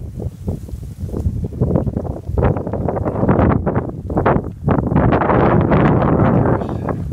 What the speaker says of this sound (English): It's windy, 62, very nice, though, other than the wind.